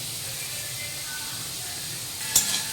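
Chopped vegetables with carrot frying in a pan for chowmein and Maggi noodles, a steady close hiss with one sharp clink of a utensil near the end.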